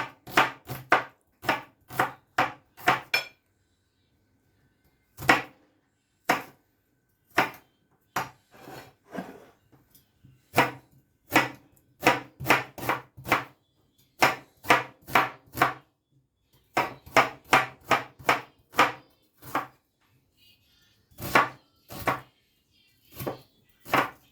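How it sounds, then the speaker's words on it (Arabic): A knife chops half an onion on a board for vegetable soup in quick bursts of crisp, close knocks, pausing briefly between runs of rapid strokes. "المهم غنقطع هاد نص البصيله"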